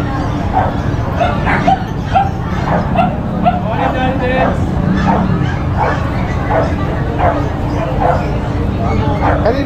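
Dogs at an outdoor pet market bark and yip repeatedly in a steady, loud chorus, with whimpers and a crowd murmuring in the background; a German Shepherd is among the dogs present.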